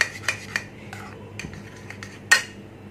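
A spoon stirs yogurt and oil together in a bowl, giving close, light scraping and clinking against the bowl with a few sharper taps and one louder knock near the end.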